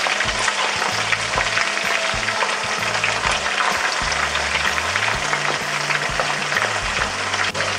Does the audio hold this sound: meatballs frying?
yes